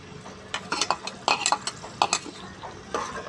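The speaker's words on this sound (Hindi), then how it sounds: "2 मिनट तक प्याज को अच्छे तरीके से भून लेंगे।" Onions frying in hot oil in a pan while a spoon stirs them, producing a quick run of metallic scrapes and clinks over a soft, steady sizzle, close up and without speech.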